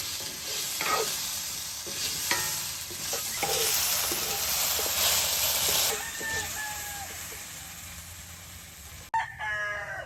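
Lard sizzling in a frying pan during outdoor cooking, a loud continuous hiss with spatula scrapes and clicks, while a rooster crows in the background.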